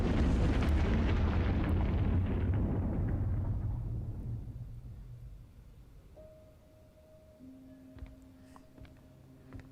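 A gas bottle blows up after being shot in Silent Hill Ascension, a loud rumbling blast that slowly decays into a long fading roar, followed by quiet low tones and faint ambient sounds.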